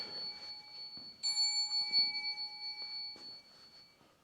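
An electronic ghost-hunting device in a church gives off sustained pure bell-like tones, several steady pitches ringing together and holding for a few seconds, with faint shuffling and bumps underneath.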